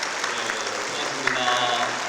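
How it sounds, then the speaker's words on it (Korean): A church congregation at an outdoor worship service claps steadily, a dense wash of applause from a large crowd with a voice speaking over it. "하나님께 영광의 박수하겠습니다."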